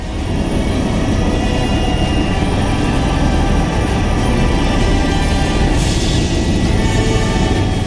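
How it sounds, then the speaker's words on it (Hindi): A party helicopter taking off from Lucknow, heard as a loud, steady, dense rotor-and-engine roar that fills the whole stretch without letting up. "मनोज तिवारी पार्टी के हेलीकॉप्टर से लखनऊ से उड़ते हैं"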